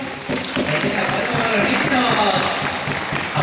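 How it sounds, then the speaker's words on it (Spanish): Crowd applause at a parish chocolatada for children in La Tinguiña, Ica, Peru, dense clapping sustained across the clip and mixed with voices and some background noise. "Aplauso para las niñitas"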